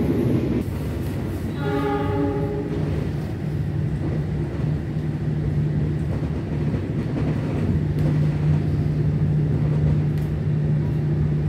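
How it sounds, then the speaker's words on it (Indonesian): Steady, loud rumble of the KA Kertanegara executive-class train moving fast, heard from inside the cabin, with a continuous low hum and a brief horn-like tonal sound early on, no talk. "di dalam kabin juga tidak terlalu berisik ketika keretanya berlari dengan cepat"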